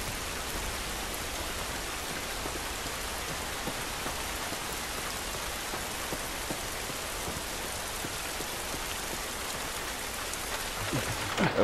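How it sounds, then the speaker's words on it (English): Steady outdoor rain from the video game The Last of Us Remastered, a dense, constant hiss of drops falling on surfaces that holds evenly throughout, with no voices. "This rain ain't gonna do us any good."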